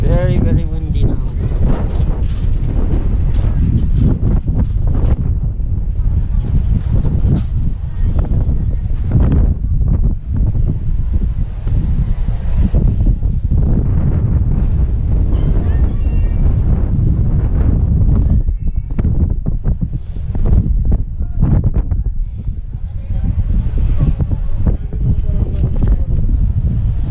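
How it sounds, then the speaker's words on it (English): Strong, constant wind roars and buffets the microphone throughout in Olongapo City, Philippines, with hooves and a horse's whinny heard faintly amid the gusts. "Very, very windy now."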